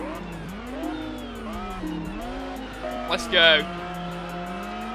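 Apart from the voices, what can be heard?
Jaguar and McLaren F1 racing, from video game Test Drive Unlimited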